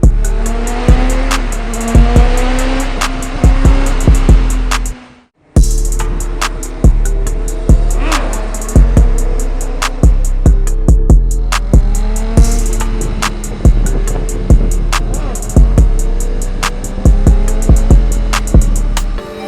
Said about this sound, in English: Like to just showcase the sound. This bike has wonderful sound.